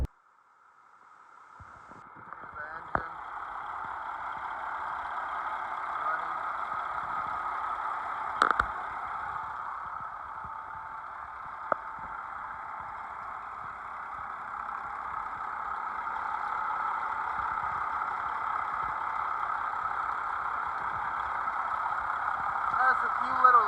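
The 3406B diesel in a 1984 Kenworth W900B truck idles steadily with a droning hum that builds slightly over time, broken by a few sharp knocks and clicks.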